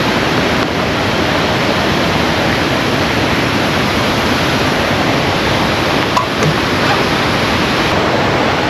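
A loud, constant roar of falling water from a waterfall on Mimico Creek in Toronto, dense and unbroken, filling the whole scene with no talking.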